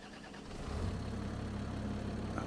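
A throaty vehicle engine idles in Farming Simulator 25, a steady low rumble that swells slightly after a moment and then holds at a constant, moderately quiet level.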